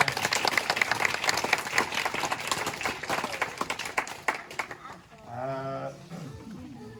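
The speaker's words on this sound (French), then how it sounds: "On l'applaudit très fort, s'il vous plaît." An audience claps loudly at a live comedy show by the duo Gaspard et Belette in Montréal, a dense burst of applause that fades after about five seconds, followed by a voice talking.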